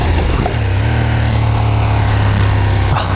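A Ducati Streetfighter track bike's engine drones steadily while riding, a loud, continuous low-pitched rumble with a constant strong tone throughout and no talking.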